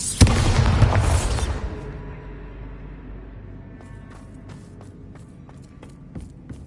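A Bombarda spell explosion in a Harry Potter video game, one loud close blast with a rumbling boom that decays over a couple of seconds, followed by quiet scattered taps and footsteps.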